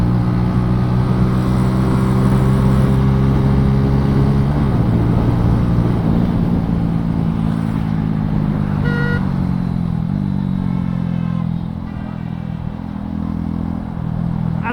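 A Suzuki Gixxer motorcycle accelerates to overtake on a highway, its engine droning loudly over rushing wind, the pitch dipping and climbing as it pulls past.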